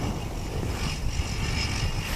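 Qantas flight QF161 taxiing at Wellington Airport produces a steady broadband roar of jet engines mixed with wind noise, constant and moderately loud with no distinct events.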